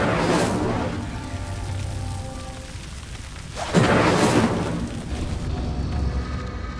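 Incendio fire spell cast in Hogwarts Legacy, a loud roaring whoosh of flame that swells, fades, then bursts again in a second sharp blast, over a rumbling, rain-like background hiss.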